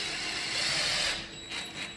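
A screw being driven into a wall to hold a wall mount, with a steady whirring mechanical ratchet sound that eases off partway through.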